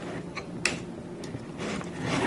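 A Printrbot 1405 3D printer makes light ticking clicks from the end of a plastic cable tie catching as it moves, a few sharp mechanical ticks over a faint motor hum.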